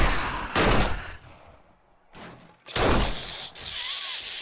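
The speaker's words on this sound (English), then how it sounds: "Guns are blazing time." Gunfire in the survival game 7 Days to Die, loud sharp blasts in a few separate bursts with ringing tails between them, close and dominant with no voices.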